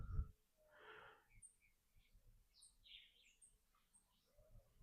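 Faint bird chirps and short tweets scattered over a quiet mountain sunrise background, a few distant calls, with a soft breathy thump at the start.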